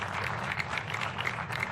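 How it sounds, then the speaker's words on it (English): A press conference audience applauds a city councilwoman, giving a short, fairly faint burst of steady clapping with no clear speech over it. "Let's give Councilwoman Santana a round of applause."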